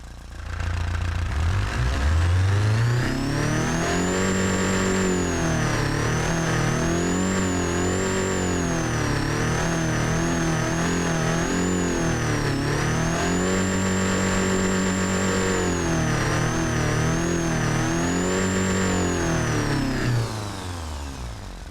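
A supercharged four-cylinder with a centrifugal blower revs in a car simulation, loud and steady for about twenty seconds, the engine note rising and falling in repeated sweeps with a thin high supercharger whine riding above it, no talk.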